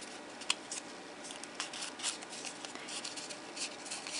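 Scissors snip a petal off a paper craft flower, giving quiet, close, irregular clipping and rustling sounds with no talk.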